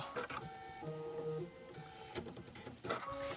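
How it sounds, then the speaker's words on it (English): An embroidery machine sews a placement stitch for background fabric, giving a steady mechanical whir with tonal motor hums and quick stitching taps, fairly quiet and close, with no talking. "my machine is positioned right now to stitch the placement stitch for my background fabric"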